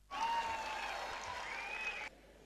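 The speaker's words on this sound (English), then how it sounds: "Can we have a round of applause, please?" An audience at an institutional event in Dubai breaks into even, sustained applause that starts abruptly and stops sharply about two seconds later, with a faint steady tone running underneath.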